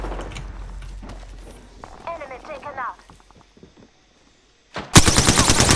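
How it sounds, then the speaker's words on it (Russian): Automatic weapon fire from the Apex Legends video game rattles in a bursting volley near the end, after scattered in-game shots and clatter heard under a voice. "стреляет по нам"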